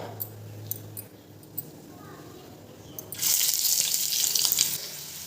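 Onion and dried red chilies hit hot oil for tempering dal, a low hum giving way midway to a loud, steady, close sizzle that continues to the end.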